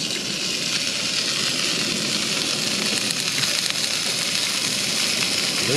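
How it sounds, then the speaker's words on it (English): Kaneka sausage and scrambled eggs sizzle in a frying pan at a breakfast cookout, a loud, steady, dense hiss of frying that runs unbroken throughout with no voices. "Listen to that sizzle."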